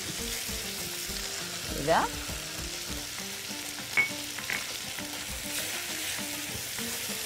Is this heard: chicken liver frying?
yes